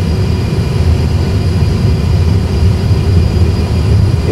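Airbus A320 jet engines roar steadily at takeoff thrust, a loud continuous broadband rumble with heavy low end that holds constant with no speech over it.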